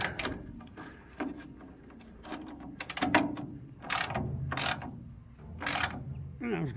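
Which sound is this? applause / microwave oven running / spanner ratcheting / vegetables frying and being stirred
spanner ratcheting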